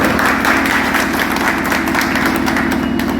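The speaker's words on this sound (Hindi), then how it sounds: "जोरदार तालियां बजा के एक बार स्वागत करिए माननीय श्री राजा" Loud, steady applause from an audience welcoming a guest at a political meeting in Maharajpur, a dense continuous clapping that holds for several seconds without pause.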